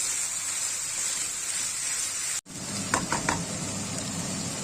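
Chopped onions go into a hot pan for simit kebab and sizzle in a steady frying hiss, followed by a brief gap and a few light clinks of a utensil against the pan.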